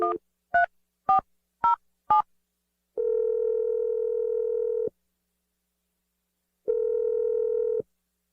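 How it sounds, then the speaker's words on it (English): Five quick telephone keypad tones beep in a steady rhythm, followed by two long, level ringback tones separated by silence, clean and close with no voices. "Dial the number right now."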